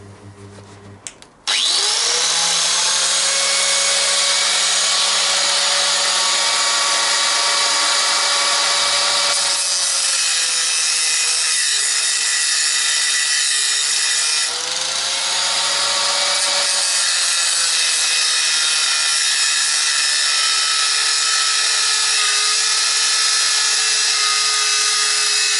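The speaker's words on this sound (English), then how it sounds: "Now the way I do it is I score a line with the angle grinder" An angle grinder scores a line in metal for a wood-burning stove garage heater, a loud continuous high-pitched grinding whine after a short start-up that dips briefly midway, heard up close with no talk.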